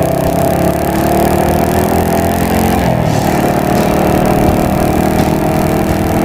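Loud, steady engine drone of a motorcycle cruising along the BR-101 highway out of Natal, Brazil, constant throttle with a brief shift in pitch partway through, plus wind noise.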